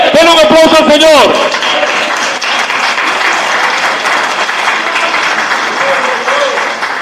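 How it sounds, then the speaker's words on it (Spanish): A brief burst of voices gives way to sustained applause from a church congregation, a steady wash of clapping that carries on to the end. "Den un aplauso al Señor."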